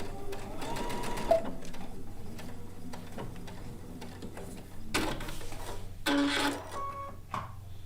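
A sewing machine stitches blue and white quilt fabric pieces into a strip for a Kaffe Fassett quilt top, running in close, steady bursts broken by short pauses and sharp mechanical clacks.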